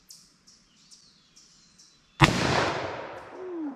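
A single loud, close gunshot from a .44 Magnum revolver fired single action with Fiocchi ammunition cracks out after a quiet stretch of faint chirps, and its sharp blast rings into a long, decaying echo across an outdoor range.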